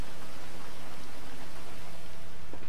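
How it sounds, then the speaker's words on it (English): Rain in the GTA 5 video game hisses as a steady, loud wash of noise with faint patter and a low hum beneath it, with no voices. "let's just clear up this rain here"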